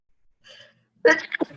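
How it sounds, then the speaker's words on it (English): A short breathy intake, then a single sharp sneeze, close and clear in an otherwise quiet space. "I feel like I have to sneeze"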